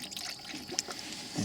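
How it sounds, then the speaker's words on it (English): Coolant pours into the radiator of a 2008-2020 Dodge Grand Caravan while the engine is off during a thermostat replacement, making a soft, continuous trickle and gurgle, quiet and close. "we're going to continue putting coolant in until we top off the radiator here"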